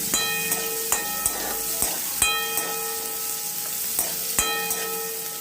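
Onion stir-frying in a pan for mushroom masala, with a steady loud sizzle and scattered clinks and scrapes of a spoon against the pan, heard close.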